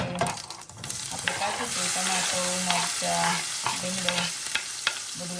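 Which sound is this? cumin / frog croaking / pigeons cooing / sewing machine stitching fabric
cumin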